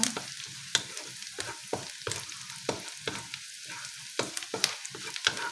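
Food browns in a hot pan, a soft sizzle broken by rhythmic scraping and clacking stirring strokes before corned beef goes in.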